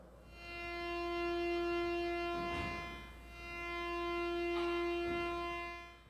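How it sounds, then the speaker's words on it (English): A synthesized square wave whose pulse width shifts, giving a steady buzzy tone that swells and thins twice in slow sweeps, fairly faint and alone. "square wave, where you change the width of it"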